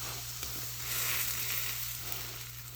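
Easter dinner food frying in butter in a small frying pan, a steady close sizzle with crackling that holds for the whole stretch and swells slightly midway, with no talking.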